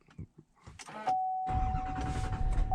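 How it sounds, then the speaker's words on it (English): The diesel engine of a 2022 GMC Sierra 2500HD Denali turns over from a push-button start and settles into a low, steady rumble, heard from the cab after a few clicks and a brief chime tone. "And the diesel comes to life"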